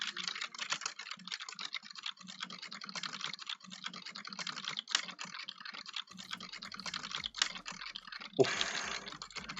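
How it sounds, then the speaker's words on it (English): Computer keyboard typing is picked up by a Logitech G435 wireless headset microphone about 1.5 feet from the keyboard, a dense, fast run of light clicks and clacks, fairly faint, ending in a brief louder rustle. "see how much keyboard clicking the microphones on these headsets pick up"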